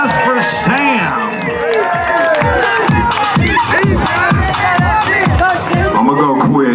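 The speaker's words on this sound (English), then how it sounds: "A big round of applause for Sam." A crowd cheers and shouts at an outdoor rally for a state champion high school football team, with many overlapping whooping voices forming a loud, continuous roar.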